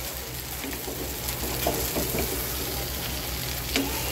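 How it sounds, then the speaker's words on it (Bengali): Pre-fried soybean chunks and potatoes cook in spiced oil in a pan. A continuous close sizzle is broken now and then by soft stirring scrapes and small pops, with no voices. "এবার আলুটার সাথে একটু হালকা কষাবো 2 থেকে 3 মিনিট।"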